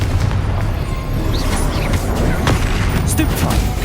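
Spell blasts from Hogwarts Legacy, including the Confringo explosion, boom and pop repeatedly amid combat noise, with a voice calling over the din.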